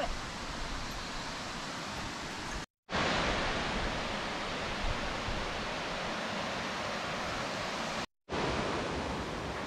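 Mountain stream water at the Daimonzawa headwaters rushes in a steady, loud broadband hiss, continuous apart from two short cuts to silence, with no talking over it.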